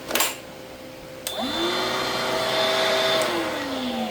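GOCHIFIX compact cordless leaf blower powered by a Makita battery, spinning up with a rising whine after a click and then holding a steady, loud close-up whir.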